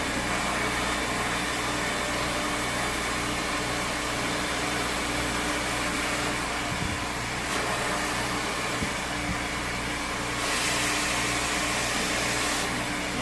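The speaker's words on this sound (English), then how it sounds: "Just take the diamond brush, comb it down, and follow it with the blow dryer." A hair blow dryer roars continuously and loudly with a steady motor hum and broadband air rush, shifting slightly in tone as it is angled downward over hair being brushed with a diamond brush.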